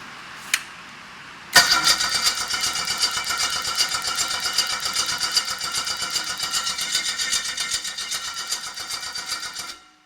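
An engine is cranked over to test a CDI ignition and spark plug, with a brief click first, then a loud, rapid, even churning of the starter and engine running steadily for about eight seconds before stopping.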